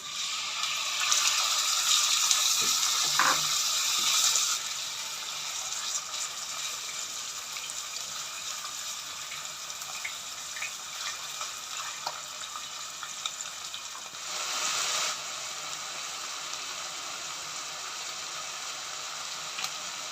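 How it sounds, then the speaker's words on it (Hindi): Minced meat (keema) dropped into hot oil in a pan for keema karela, giving a loud steady hiss and sizzle that surges at the start and again midway, continuous and close, with no voices. "अब ये ऑयल गर्म हो गया, इसके अंदर हम डालेंगे कीमा।"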